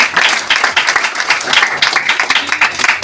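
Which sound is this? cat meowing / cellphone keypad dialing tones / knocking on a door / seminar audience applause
seminar audience applause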